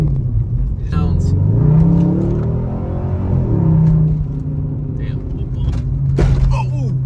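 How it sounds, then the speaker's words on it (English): A lowered Dodge Magnum RT engine roars steadily while driving, a loud continuous drone rising and falling in pitch, with people talking over it. "it does like hearing that engine roar"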